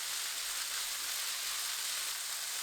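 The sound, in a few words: wood ear mushrooms stir-frying with oyster sauce and soy sauce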